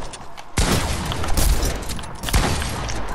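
Gunfire in a first-person shooter video game: dense, loud bursts of rapid shots with booming impacts, two sharp blasts standing out amid continuous crackling fire, no speech.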